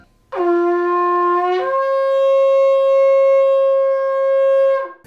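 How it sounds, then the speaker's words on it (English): Sustained flute tone played alone, clean and loud, starting on one pitch then rising to a second held note for several seconds before stopping. "It sounds like a flute."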